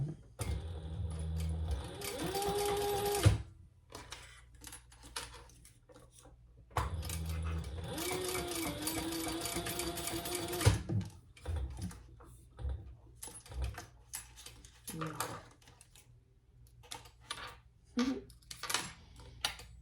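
A sewing machine bastes the layers of a wallet together in two loud bursts of rapid stitching, each running a few seconds, then gives way to scattered clicks and handling noises from the fabric and machine.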